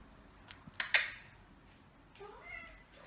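Several house cats meow as they gather for their evening feeding, with a few brief, fairly faint calls over quiet room background.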